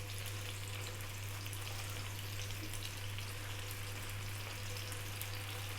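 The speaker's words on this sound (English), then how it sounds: "We're going to fry it off about 3 minutes on each side." Carp pieces fry in a pan for a Bengali fish masala, a dense, constant sizzle with fine crackling that stays steady and close throughout under a low steady hum, with no voices.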